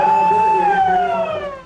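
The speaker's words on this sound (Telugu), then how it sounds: "వైమానిక దాడుల హెచ్చరికలతో సైరన్లు వినిపించాయి" An air raid warning siren wails during a civil defence mock drill in India, one loud sustained tone that slowly sinks in pitch and fades toward the end.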